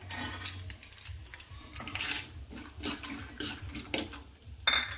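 Cumin seeds and peanuts roasting in a pan with mustard seeds, stirred with a spoon that clinks and scrapes against the metal at an irregular pace, with quiet crackling underneath and a sharper clank near the end.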